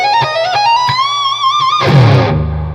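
A distorted electric guitar plays a short bending lead lick that slides upward, then ends on a crunchy chord strike, loud and close with no voices.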